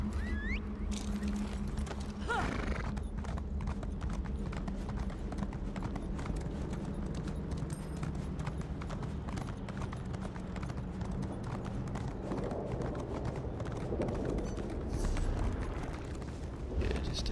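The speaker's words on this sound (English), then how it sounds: "Horse." Horse hooves clip-clop in The Elder Scrolls Online's Coldharbour Trials, a steady run of soft, regular hoofbeats under game ambience, with a brief faint voice early on.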